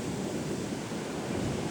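Sea waves wash against the shore in a steady, broad rush of surf, with wind buffeting the microphone throughout and no voices.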